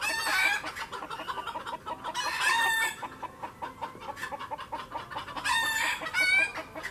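Hens cluck and cackle in repeated loud bursts with a rooster crowing among them, a backyard flock raised for eggs, sounding close and busy over a steady outdoor hum with brief quiet gaps between outbursts.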